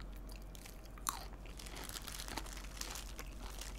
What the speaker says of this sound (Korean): 고추 이렇게 먹어.